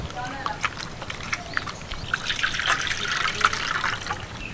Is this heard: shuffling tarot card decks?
no